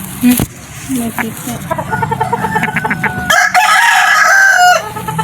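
A straight golden boy rooster crows loudly and close by, a single drawn-out call near the end, after clucking and someone talking in the background.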